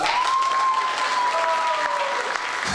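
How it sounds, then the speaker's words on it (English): Steady, loud audience applause at a business award presentation, dense clapping from a crowd filling the whole moment without pause. "Can you please give a big round of applause for Kate and Phil Jackson?"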